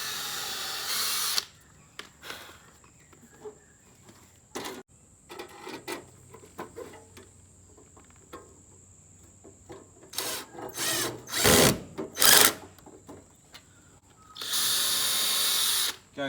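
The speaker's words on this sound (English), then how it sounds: "is I actually drill just one hole." A power drill bores a single hole into a wall to mount a pet water station, with loud steady bursts at the start and end and quieter handling clicks and rubbing between them.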